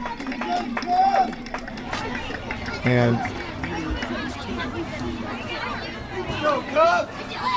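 Lively crowd chatter at a Little League baseball game at Boyle Park on a cloudy day, a busy babble of many voices with occasional shouts and a few louder nearby bursts running throughout.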